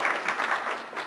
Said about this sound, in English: A round of applause for Wendy and the group.